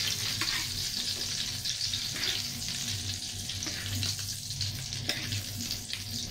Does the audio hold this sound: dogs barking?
no